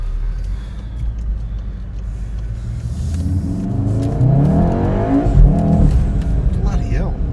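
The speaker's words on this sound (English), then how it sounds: "Yeah, the car's got some pickup." Ford Mustang with upgraded suspension accelerating hard, engine note climbing in a rising sweep and getting louder over several seconds, heard from close by.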